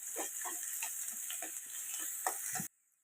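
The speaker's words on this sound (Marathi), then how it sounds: "तर आता आपल्याला हा कांदा लालसर असा परतून घ्यायचा आहे" Chopped onion sizzles steadily in hot oil in a pan while being cooked for upma, with soft stirring scrapes now and then, until the sound cuts off abruptly near the end.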